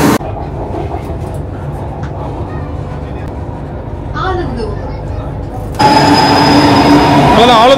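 A metro train rumbles into a station in Chennai, a steady low rolling drone that turns into a louder screeching brake whine as it pulls in, with crowd murmur and station noise around it.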